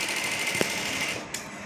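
A sewing machine stitches a tarkashi design on a child's shalwar trouser, with a steady fast mechanical whir running throughout and a couple of brief clicks, close and moderately loud.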